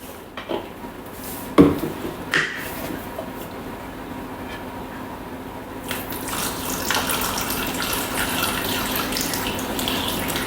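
Water is poured into a Thermomix bowl while making a Greek vanilla slice syrup, a steady soft trickling wash that runs for several seconds after a few clunks and knocks near the start, with no talking over it.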